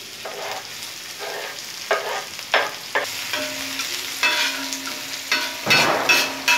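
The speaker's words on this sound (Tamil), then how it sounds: "இப்போ பூண்டு லைட்டாக வதங்கினதும் வெங்காயம் போட்டுடலாம்." Garlic and curry leaves, then onion, sautéing in a pan for a mushroom pepper fry, with steady sizzling broken by repeated bursts of spoon stirring and scraping, up close and with no voices.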